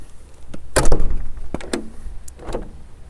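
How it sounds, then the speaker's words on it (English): A Marvin bifold door swings shut and locks, heard as a sharp, close clunk followed by a few lighter clicks and a final latch knock in a quiet room. "we're going to confirm that the door shuts and locks"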